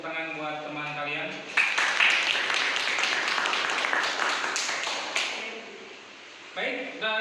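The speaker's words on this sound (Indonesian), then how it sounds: "Mari kita beri tepuk tangan buat teman kalian." Classroom applause for students: a burst of clapping from a group that lasts several seconds, with a voice speaking just before and after.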